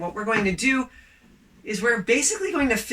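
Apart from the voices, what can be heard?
No everyday noises stand out.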